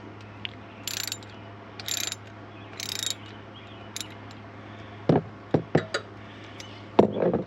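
Ratcheting on the valve cover bolts of a 168cc Tank 200 scooter, heard as a few short bursts of clicking, followed by louder, close metallic clunks and knocks from the tool and the engine parts.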